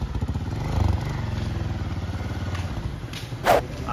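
A Honda Titan 150 trail motorcycle engine throbs steadily nearby while braking, a loud continuous low pulsing drone with a brief clatter near the end.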